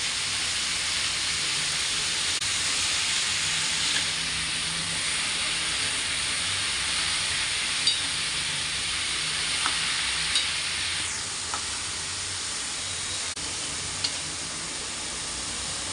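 Grated carrots being sautéed for carrot halwa, a steady close sizzle and hiss with occasional soft scrapes and taps of a stirring spoon.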